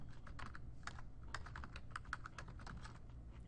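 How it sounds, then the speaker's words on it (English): Quick, irregular clicking of keys on a computer keyboard, soft and close, with bursts of keystrokes and short pauses and no one talking. "So I'm going to type up unit rate."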